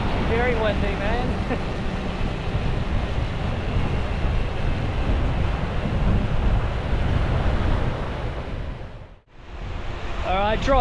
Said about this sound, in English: Very windy, man.